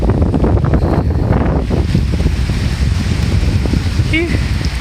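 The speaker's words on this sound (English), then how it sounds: "Wind's blowing pretty good." Strong wind blows outdoors near the water, roaring steadily and buffeting the microphone throughout, with a person talking under the gusts.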